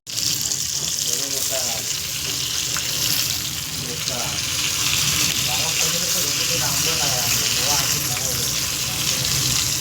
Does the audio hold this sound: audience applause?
no